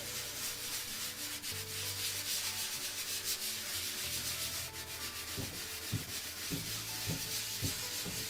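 A hand rubs a coat on a DIY concrete countertop in light circular motions, working up a paste: a steady, close, continuous sanding-like scrubbing with gentle rhythmic swells, no voices.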